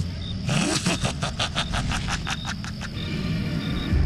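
A car speeding away on a foggy road at night, a steady engine drone with a rapid pulsing rattle midway, heard under a dramatic story soundscape.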